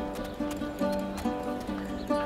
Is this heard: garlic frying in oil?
no